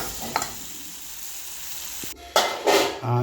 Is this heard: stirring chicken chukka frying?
yes